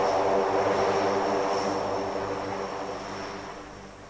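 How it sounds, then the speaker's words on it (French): A propeller aircraft roars at full throttle as it takes off from an old runway at Entebbe in 1976, a loud, steady engine drone that slowly fades as the plane pulls away. "et l'avion décolle."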